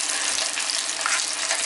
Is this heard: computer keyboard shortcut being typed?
no